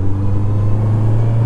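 Steady engine hum and road rumble from inside a Honda car driving through Berlin city streets, loud and continuous with no voices.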